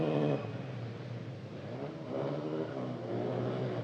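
Renault Clio Cup race car passing at Imola near the finish line, its engine note rising and falling as it goes by with a mid-pitched buzz, moderately loud and unaccompanied by talk.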